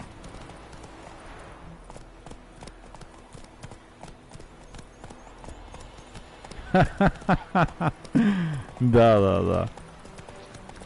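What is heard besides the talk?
horse hooves clip-clopping in a video game (Warzone)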